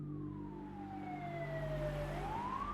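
An ambulance siren used as a sound effect wails in a single long falling tone, then swings upward again, moderately loud over a steady low engine rumble.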